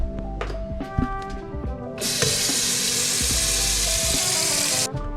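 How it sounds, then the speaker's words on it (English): Tap water gushes steadily into a container being filled for Rit dye, a loud continuous rush that starts partway through and runs for about three seconds before stopping, with some clinks and handling noises around it. "So we are about to fill up with some more water."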